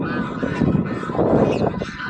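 Pomeranian geese honk loudly and continuously up close, a dense overlapping chorus of several birds with no talk over it.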